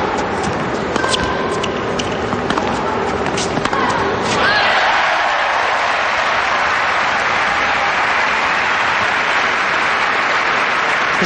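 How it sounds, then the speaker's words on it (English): Tennis crowd at a 2008 Antwerp semifinal bursts into loud cheering and applause after a point, rising sharply midway over earlier court sounds and a commentator's voice, then sustaining as a broad roar. "It's a real cheer when Justine won the point."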